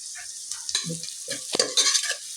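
Onions for vegetable pulao sautéing in a pot over a low gas flame, with soft stirring and scraping over a steady gentle sizzle, close up and with no voices.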